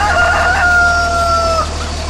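Chickens in the farm game Farming Simulator 2013, with one near, loud rooster crow and clucking over a steady low background hum, no talk.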